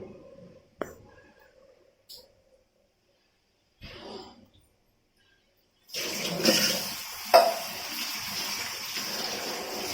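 Rice being rinsed in water at a kitchen sink basin, a steady splashing and running-water wash that starts partway through and continues to the end, preceded by a few faint knocks and rustles.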